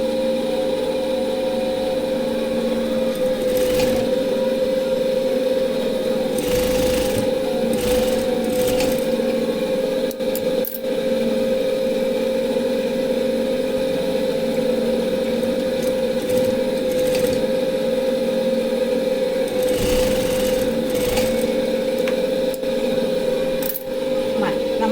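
A sewing machine hems the sides of a cloth face mask, giving a continuous close motor whir and hum with scattered light clicks and knocks over about twenty-five seconds.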